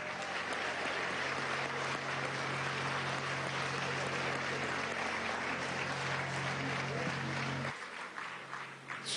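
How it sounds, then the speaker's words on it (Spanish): Applause for Walter Martínez at the Venezuela Digital 2017 fair closing event, a dense steady wash of clapping from a large audience that runs loud for several seconds, then thins near the end, with a low hum underneath. "Un aplauso a Walter."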